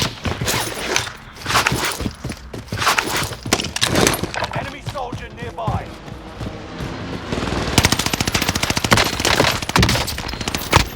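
Gunfire in Call of Duty Warzone, dense bursts of rapid shots and single cracks throughout, with a faster automatic stream near the end, mixed with footsteps and a voice talking.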